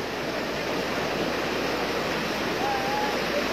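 Strong floodwater rushes through a flooded residential area during a typhoon in the Philippines, a steady loud broadband roar with no pauses, close and continuous, with a faint voice briefly above it.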